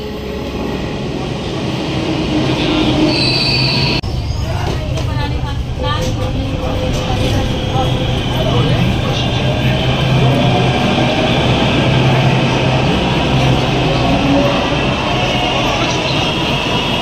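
A Delhi Metro train rumbles steadily through Netaji Subhash Place station, a loud continuous roar and rattle amid crowd noise, with voices mixed in.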